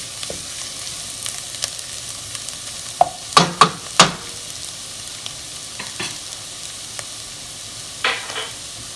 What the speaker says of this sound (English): You can hear the sizzling coming from the vegetables.